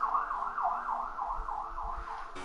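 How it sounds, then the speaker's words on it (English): An emergency vehicle siren wails in a steady rising-and-falling pattern, fairly loud and continuous throughout, with low rumble beneath and no talking. "Apologies if you hear the sirens."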